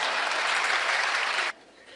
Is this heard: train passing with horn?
no